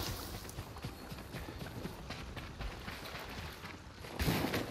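Rhythmic hoofbeats from a galloping horse in the game Ghost of Tsushima, steady and fairly faint over a constant ambient bed, with a heavier thump near the end.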